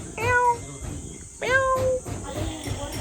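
A cat meows twice, each a clear rising-then-falling call about a second apart, close and fairly loud against faint insect chirping outdoors near a temple in hill country.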